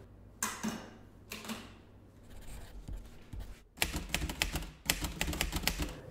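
Typewriter keys clatter in bursts, a few isolated clacks early on, then rapid runs of crisp strikes with brief gaps, close and fairly quiet.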